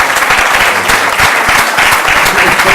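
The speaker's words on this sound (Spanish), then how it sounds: "Un aplauso para él" Loud, dense applause from a panel-debate audience, a steady wash of many hands clapping close by that continues throughout without pause.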